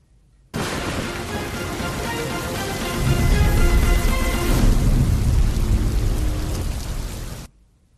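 Heavy monsoon rain pours down continuously as thunder rumbles in partway through, deep and rolling beneath the dense hiss of the downpour, loud and close throughout.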